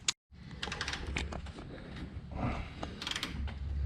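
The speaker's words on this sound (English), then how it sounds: "You don't need the damper to turn it, eh? No, you just turn it by the crank bolt." Engine crank bolt on a turbocharged Toyota Chaser JZX100 being turned with a wrench, giving rapid ratcheting clicks and metallic mechanical rattles close by over a steady background hum.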